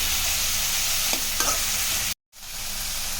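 Tomatoes are stirred and sautéed in a hot pan, giving a continuous loud sizzle with a couple of soft scraping stirs, briefly cutting out before the frying hiss resumes.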